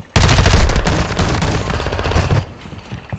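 Loud, close automatic gunfire in Modern Warfare 2, a continuous rattling burst of over two seconds that then cuts off into quieter background noise.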